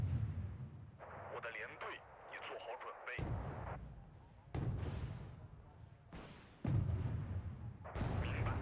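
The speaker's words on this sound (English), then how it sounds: "Okay, here come the rockets." Rockets fire in the video game Wargame: Red Dragon, with several heavy booming launches and rumbling bursts spread across the stretch, mixed with game sounds and with someone talking through much of it.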